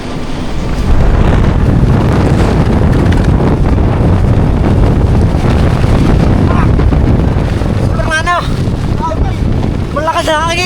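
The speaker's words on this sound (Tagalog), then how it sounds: "Malakas na hangin!" Strong wind at sea, about 30 knots, roaring and buffeting as a steady, loud broadband rush for the whole stretch, with a voice briefly calling out near the end.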